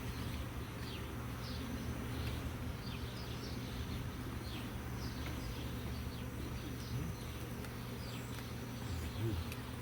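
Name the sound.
honeybees from a mature beehive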